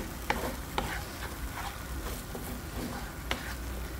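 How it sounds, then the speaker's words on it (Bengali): Cashew and almond paste frying in a pan for plantain malai kofta, with a steady low sizzle and a few sharp scrapes of a spoon stirring it, close and fairly quiet with no talking. "এটা কিন্তু কাজু আলমন্ড পেস্টটা দেওয়ার পর কিন্তু একটু এটা কন্টিনিউয়াসলি স্টার করবেন"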